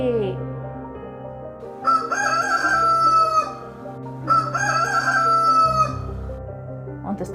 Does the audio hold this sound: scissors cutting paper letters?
no